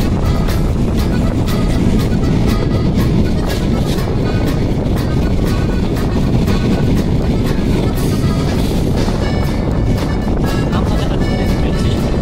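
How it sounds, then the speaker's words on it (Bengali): The Chilahati Express passes through Joydebpur junction in Gazipur, a loud, close, continuous rumble and rattle that holds steady throughout. "রাজশাহীগামী বনলতা এক্সপ্রেসকে থামিয়ে চলে যাচ্ছে চিলাহাটি এক্সপ্রেস।"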